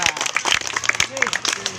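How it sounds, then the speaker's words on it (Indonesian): Scattered classroom clapping from a group of students, short and uneven, mixed with a teacher's and pupils' voices talking over it. "Beri tepuk tangan dulu."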